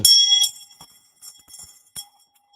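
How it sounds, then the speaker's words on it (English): A small bell dings brightly at the start, followed by a few quieter clinks and a final short ring, isolated and close with silence between strikes. "Ask not for whom the bell tolls. It tolls for thee, Andrew."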